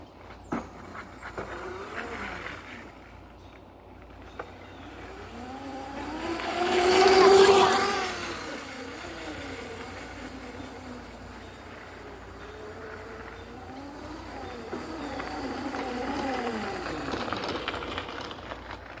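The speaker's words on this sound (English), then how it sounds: "Today I'll be riding my dirt bike. And it's an electric one" An electric dirt bike rides past with a smooth motor whine that swells to a loud close pass midway, fades, and then builds again toward the end.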